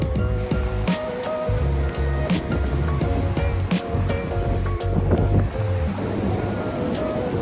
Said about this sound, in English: Came to the water, gotta check out the waves.